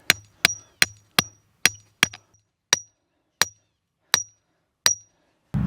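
Repeated sharp hammer blows drive stakes into the ground for a pea trellis, about ten strikes at a steady, slightly slowing rhythm, close and loud with a ringing metallic edge, followed by a brief rustle at the end.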